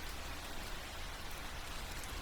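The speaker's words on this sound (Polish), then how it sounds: "z których pada delikatny, przyjemny letni deszcz" Gentle summer rain falls steadily, a soft even hiss of drops with no pauses or other sounds.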